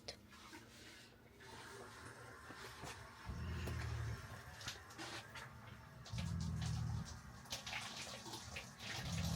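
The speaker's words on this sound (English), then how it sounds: "A shower for the first time." Water runs in a camper van shower, a soft, continuous spray and splatter with low surging pulses as the pump or flow kicks in twice, and no voices over it.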